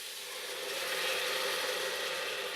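Spices bloom in hot oil for a carrot ginger soup, giving a steady, fairly loud broadband sizzle that holds evenly for the whole stretch with no voices.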